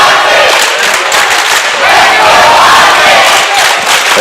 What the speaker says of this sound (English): The crowd chanting for Isaac Davis. It is loud here.